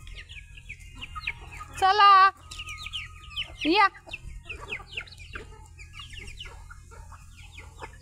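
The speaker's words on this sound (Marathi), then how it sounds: "या बघा अशा खात्यात कोंबड्या." Chickens clucking and calling close by in a yard as they gather to eat scattered feed, with two louder bursts of squawking among steady soft clucks and a person calling to them.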